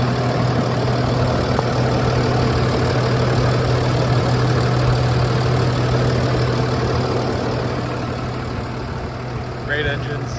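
A 6.7-liter Cummins ISB inline-six diesel in a 2017 International DuraStar 4300 box truck idles steadily with a low, even hum throughout, close and continuous, with a brief faint higher tone near the end.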